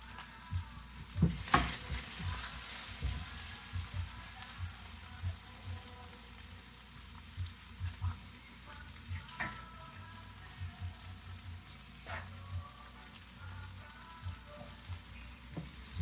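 Ginger, garlic and onion fry in a pan until golden brown, a steady close sizzle with scattered sharp pops and occasional stirring scrapes, no voices.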